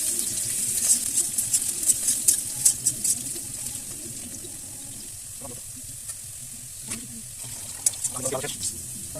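Potatoes fry in a pan for bhuni khichdi, giving a steady low sizzle with scattered clinks and scraping stirs, while a person talks over the cooking.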